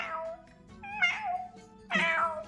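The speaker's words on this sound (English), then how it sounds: "Ooh, the cat!" A cat meows three times in a row, clear and fairly close, each cry rising and falling in pitch, with no talk.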